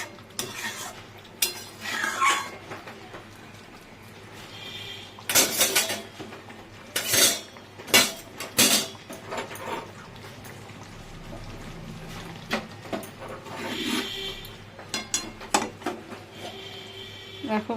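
Boiled rice being poured off from a cooking pot, with clattering metal pot and utensil knocks, bursts of splashing and rushing water, and a quieter background between the bursts.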